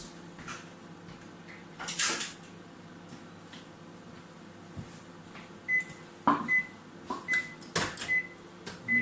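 A microwave oven cooking scrambled eggs gives a low steady hum, broken by clicks, a door-like clatter and a few short beeps toward the end.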